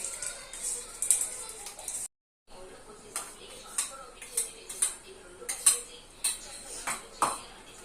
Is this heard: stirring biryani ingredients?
yes